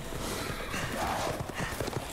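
Rapid clip-clop of horse hooves galloping in Resident Evil Village on PS5, as werewolf-like creatures ride horses, a steady quick rhythm mixed with dense game noise.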